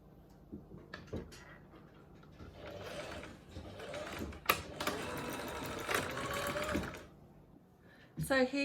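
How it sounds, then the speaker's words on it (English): A sewing machine stitches across the bottom of a pocket on a skirt upcycled from an old roll-neck T-shirt, in a steady whirring run of several seconds with voices around it. "we're just going to sew the bottom of what will become the pocket"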